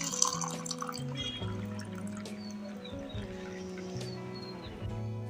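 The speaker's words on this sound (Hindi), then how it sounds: "अब इसमें डाल देते हैं ठंडा पानी।" Cold water poured into a cup of sugar and prepared coffee for cold coffee, a faint continuous trickling and dripping of liquid close by, with no talk.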